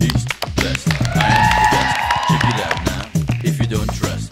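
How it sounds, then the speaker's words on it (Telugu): A crowd claps for dancers after a performance, a dense burst of close, loud applause with a voice speaking over part of it. "సో మీ డాన్సెస్ అందరికీ ఒక క్లాప్స్"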